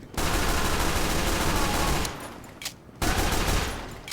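Scout's pistol in the game Team Fortress 2 firing in a rapid continuous burst, loud and close, pausing briefly before a second burst resumes.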